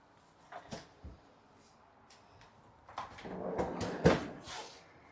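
Freezer drawers of a residential bottom-freezer fridge in a 2024 Forest River Sandpiper 391FLRB fifth-wheel RV slide open and shut, giving a few soft clicks followed by a rolling slide and a firm closing thud, nearby and fairly quiet.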